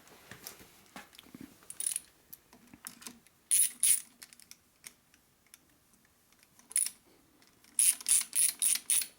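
A wrench ratchets on a 1978 Harley-Davidson Shovelhead engine during a head, cylinder and case rebuild, giving sharp close clicking bursts that end in a fast run of repeated clicks.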